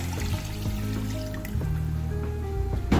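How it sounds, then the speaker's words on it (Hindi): Water poured into a cooking pot of fried goat head with spices for curry, a steady close pouring and filling sound running for about three seconds with no talk. "अब इस पॉइंट पे मैं इसमें ऐड करूंगी 3 गिलास पानी के,"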